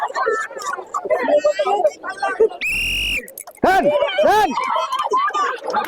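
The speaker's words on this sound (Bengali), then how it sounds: "দাঁড়া, বাঁশি বাজাই বাঁশি বাজাই বাঁশি বাজাই" A whistle blown during a stick-pulling strength game at a crowd event: one long, shrill steady blast lasting about half a second, then shorter chirps, amid a loud announcer's voice and crowd noise.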